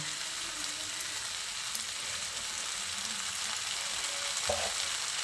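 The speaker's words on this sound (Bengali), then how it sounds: "এঁচোড় আলুটা দিয়ে ভালো করে মশলার সঙ্গে মিশিয়ে নিয়েছি" Raw jackfruit and potato stir-fried with spices in a pan, a dense, even hiss of frying with faint occasional stirring and one brief clink near the end, no talking.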